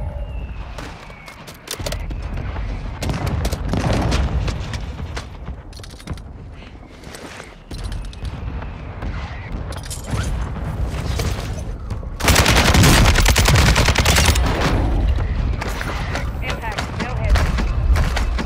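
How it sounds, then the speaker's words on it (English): Video game mortar strike with dense gunfire, rapid bursts of shots and explosions crackling loud and near, with a heavier barrage partway through and voices talking over the combat. "Requesting ordnance. Position marked. Mortar strike inbound now."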